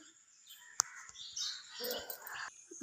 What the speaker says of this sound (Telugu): పక్షులు హడావడి గోరింకల కిలకలతో